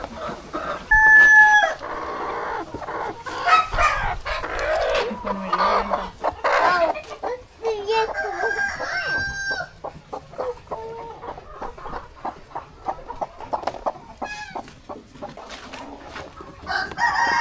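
Domestic chickens cluck busily around a Kerala home while a rooster crows several times, loud and close, over a stretch of scattered clucks and short calls.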